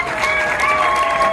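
Audience applause fills a short burst of clapping and crowd noise, steady and dense throughout, with a faint tonal hum underneath.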